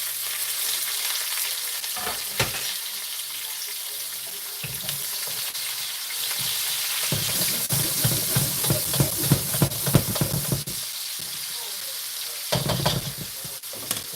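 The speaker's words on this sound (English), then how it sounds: "Anyway, onions going in." Onions hit a hot pan alongside steak and crackle with a loud, steady sizzle, broken by bursts of stirring and scraping that grow busier midway, with no talking.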